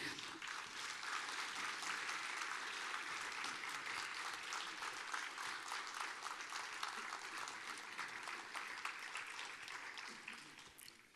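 Audience applause for a Slovenian folk choir at a song-and-dance concert, dense steady clapping from many hands sustained throughout, fairly loud, fading slightly toward the end.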